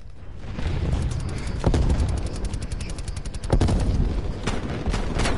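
Sustained automatic gunfire in the Call of Duty Cold War beta, loud and close, with rapid regular shots and heavier booming bursts throughout.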